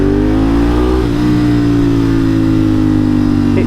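A Ducati 1098S motorcycle engine runs loud and close with a deep steady drone, the pitch rising slightly as it revs, with no voices.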